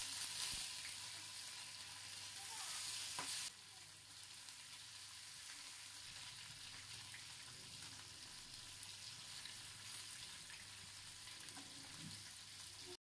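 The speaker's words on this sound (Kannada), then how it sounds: "ಮಸಾಲ ಹಿಡ್ದಿರೋ ಮೀನುಗಳನ್ನ ಒಂದೊಂದಾಗಿ ಎಣ್ಣೆನಲ್ಲಿ ಹಾಕಿ ಫ್ರೈ ಮಾಡ್ತಾ ಬರೋಣ" Masala-marinated bangda fish fry in hot oil in a pan, giving a constant soft sizzle that holds steady at a low, even level with a brief louder patch at the start.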